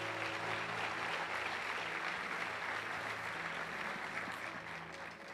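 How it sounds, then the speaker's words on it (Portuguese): A church congregation claps together in steady, dense applause for a worship performance, loud and sustained throughout, fading slightly toward the end. "Vamos aplaudir a Jesus pelo nosso louvor maravilhoso"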